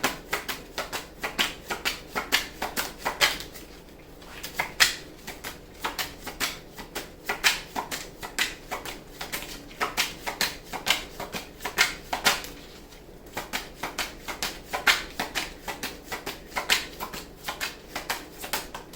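Tarot cards being shuffled in quick, crisp riffling bursts that repeat steadily close to the mic, with two brief pauses in the flutter, no voices.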